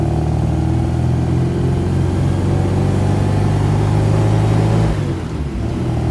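A 1974 MG B Cabriolet's engine pulls hard and loud through its gears, a steady close-up drone that eases off briefly near the end as the next gear engages.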